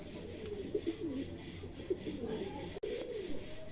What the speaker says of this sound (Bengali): এই যে সমস্ত পায়রা সব বাগানে বেরিয়ে পড়েছে, সব ডাকাডাকি করছে